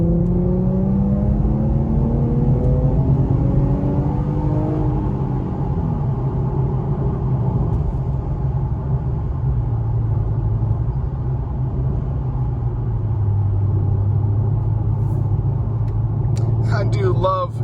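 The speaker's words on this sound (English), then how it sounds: "I do love driving this car." An Infiniti Q50 car engine drones steadily while driving, a loud low rumble with a rising and falling pitch as it revs and shifts, heard from inside the cabin, with someone talking over it.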